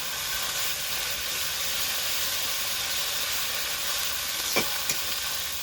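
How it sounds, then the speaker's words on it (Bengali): A paste of ginger, garlic, chili and cumin stir-fries for an egg curry, giving a steady close hiss and sizzle with a couple of brief scraping stirs near the end. "এবার নেড়ে চেড়ে একটু কষিয়ে নেব"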